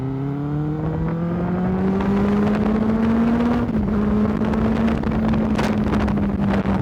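A 2015 Benelli BN600i inline-four motorcycle revs with a smooth, steadily rising engine tone that dips briefly and then holds high, loud and close, with wind rush over the microphone.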